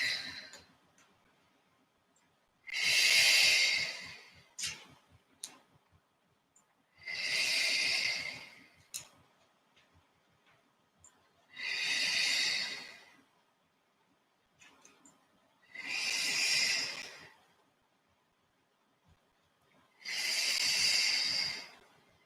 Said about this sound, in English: So you can breathe in through your nose and out through your mouth.